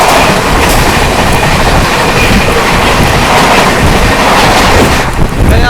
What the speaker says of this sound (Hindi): इसी के पीछे पीछे आ रही है आप लोगों की आनंद विहार टर्मिनल गया गरीब रथ एक्सप्रेस